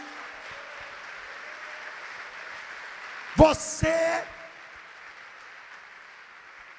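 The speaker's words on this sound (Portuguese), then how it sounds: "Vamos aplaudir Jesus." A church congregation applauds during a sermon, a steady wash of clapping held at moderate level across the whole stretch, briefly topped by a single spoken word from the preacher partway through.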